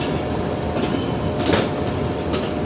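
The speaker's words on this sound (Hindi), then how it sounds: "रोड़ी स्टेशन के प्लेटफॉर्म नंबर 3 को छोड़ दिया है ट्रेन ने" Awam Express train pulling out of platform 3 at Rohri station, heard from inside a lower AC coach: a steady rumbling roll with a couple of brief louder bursts of wheel and track noise.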